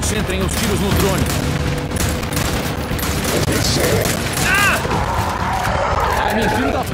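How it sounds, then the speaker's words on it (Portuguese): Rapid bursts of gunfire fill the action of the Gears 5 Hivebusters mode as shots are concentrated on a drone, dense and loud, with voices calling out between the shots. "Concentrem os tiros no drone."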